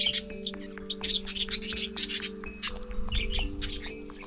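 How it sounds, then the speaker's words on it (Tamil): Lovebirds chirping in a Kerala forest, a flurry of short high tweets and calls at moderate distance over a steady mechanical hum, no talk. "இங்கே பாருங்கள், லவ் பேர்ட்ஸ் இருக்குது. எங்கடா சத்தம் கேட்குது அப்படின்னு பார்த்தேன்."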